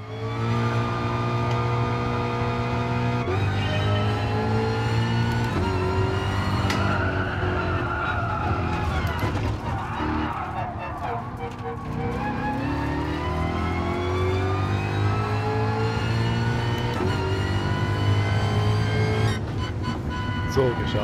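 Race car in Gran Turismo Sport taking a steeply banked bowl corner, the engine rising and falling in pitch through gear changes and accelerating hard, loud and continuous, with a voice speaking over it.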